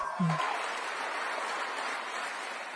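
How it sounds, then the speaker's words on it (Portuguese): Audience applause at a TPUSA speech, a dense, even wash of clapping from a large crowd that holds steady throughout, with a brief low voice or cheer near the start. "Preste atenção aos aplausos, certo?"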